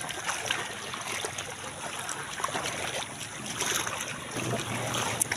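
Strong floodwater rushes past a roadside near a bridge, a broad steady hiss of flowing water heard from a distance, with no voices.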